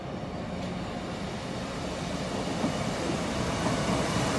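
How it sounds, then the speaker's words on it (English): Class 150 diesel train arriving at Exeter St David's station, a steady broad rumble and hiss that holds at an even level throughout, with no voices. "class 150 coming in"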